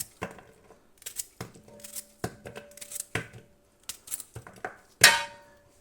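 A knife cuts cucumbers into rounds on a board for a Nizhyn-style salad, with a series of crisp, close chops spaced about a second apart, ending in a louder scraping clack.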